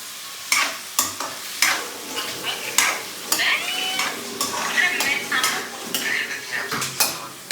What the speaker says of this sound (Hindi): प्याज की सब्जी बना रही हूँ